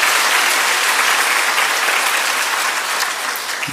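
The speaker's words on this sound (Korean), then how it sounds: "박수 한번 하십시오." Steady applause from a church congregation welcoming a pastor's wife, dense and even from start to finish, with no voices over it.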